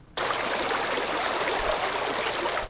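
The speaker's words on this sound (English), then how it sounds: "I wanted to make sure I came back and saw the water flowing" A restored stream flows beneath a new bridge built mostly of recycled materials at a fish passage on a trail in Traverse City. It sounds like a steady, full rush of moving water that starts abruptly and continues unbroken.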